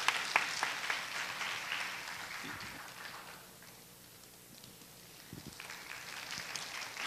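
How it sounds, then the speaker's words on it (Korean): A church congregation at a Korean Sunday young adults' service claps to welcome a guest speaker from a local farming cooperative, a brisk applause that dies down to near quiet midway, then a scattered second burst of clapping returns. "여러분 박수로 환영해 주십시오"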